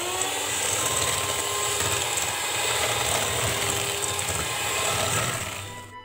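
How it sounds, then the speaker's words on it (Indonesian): An electric hand mixer beats eggs, sugar, vanilla and emulsifier into batter at high speed, giving a loud, steady whirring drone close by that runs without pause and then eases off at the end. "Kemudian mixer dengan kecepatan tinggi."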